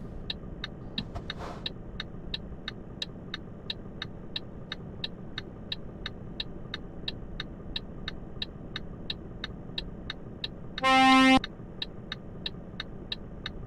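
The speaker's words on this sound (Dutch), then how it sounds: "Een boel verkeer." Steady road traffic in Euro Truck Simulator 2 on a Polish route from Koszalin to Bialystok: a constant engine rumble under a regular ticking pulse, with one brief louder burst near the end.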